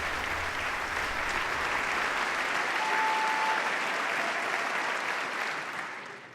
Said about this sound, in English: Oh, let's get up and clap again.